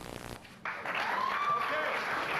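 A theater audience at a Greater Tuna show applauds from a crowd. The clapping starts after a brief quiet moment and continues steadily to the end.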